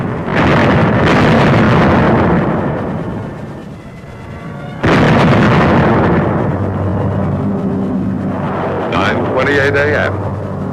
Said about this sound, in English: carefully concealed, camouflaged 105 howitzers on gun carriages opened up with a bombardment of